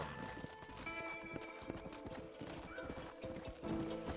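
Hooves clip-clop in a quick, uneven gait as a horse moves in the Red Dead Redemption video game, with a sharp neigh rising out of the hoofbeats partway through, close and fairly loud.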